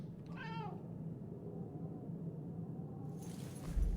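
A cat in the video game Murdered: Soul Suspect, in a church setting, gives one short, clear meow against a low ambient hum, followed by a faint rumble near the end.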